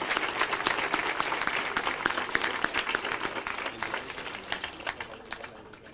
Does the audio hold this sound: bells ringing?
no